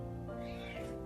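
A Bengal cat gives a single drawn-out meow, close and clear, rising and then falling over about a second with no other sound around it.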